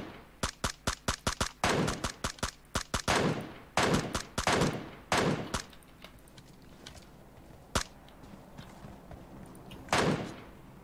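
Rapid bursts of gunfire in PUBG Mobile on the Erangel map, with an MK14 rifle, loud sharp shots in quick clusters followed by sparser single cracks and fading echoes, no talk over them.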